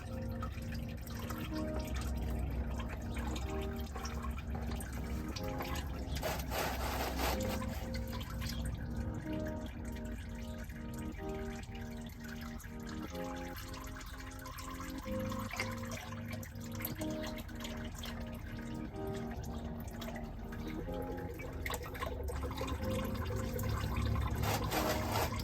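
Engine oil drains from the sump of a 2015 Toyota Land Cruiser 76 series, a faint, steady trickle and dribble that continues for the whole stretch with no talk.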